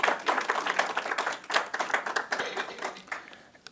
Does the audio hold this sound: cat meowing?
no